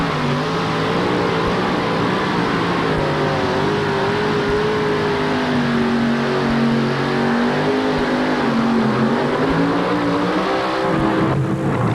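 A loud racing engine in a 1934 Ford pulling truck with an Arias engine roars continuously during a run at the 1988 NTPA Syracuse event, its pitch shifting as it revs and pulls hard, with no voices over it.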